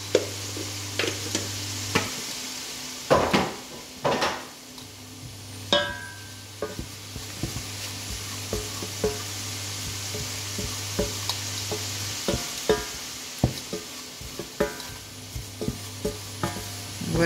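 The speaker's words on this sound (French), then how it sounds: "on va mettre nos 2 cuillères à soupe de farine. Donc ça, c'est ce qu'on appelle un roux." A spoon stirs a flour roux bubbling in a pan, with repeated scraping knocks over a steady, gentle sizzle and a low hum beneath, no talking.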